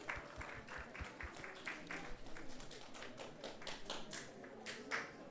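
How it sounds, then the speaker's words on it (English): Audience applause closing a Krishna Katha discourse, a steady, dense wash of many hands clapping that holds through the whole stretch at moderate loudness, with no talk over it. "let's give them a big round of applause"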